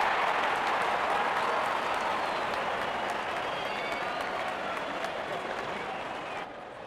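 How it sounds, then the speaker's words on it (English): A large cricket stadium crowd at an India versus South Africa T20 match roars and cheers continuously, a dense sustained wall of noise with scattered shouts and whistles that eases slightly toward the end. "crowd cheering in anticipation"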